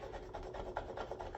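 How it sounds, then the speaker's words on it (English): A chisel pressed hard and dragged like a card scraper across wood, shaving dried glue squeeze-out in a quiet, close rasping scrape with several short rhythmic strokes. "I'll actually put quite a bit of pressure down and I can get kind of a card scraper kind of effect"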